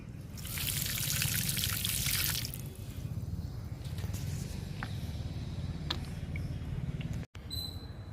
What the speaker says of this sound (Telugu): ఈ మొక్కకు కూడా ఇస్తున్నాను లిక్విడ్.